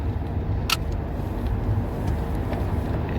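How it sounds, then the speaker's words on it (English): Steady low rumble of a car being driven on a road, a continuous engine and road noise with a brief higher-pitched tick early on, no talking. "Guess what I'm doing? I'm driving."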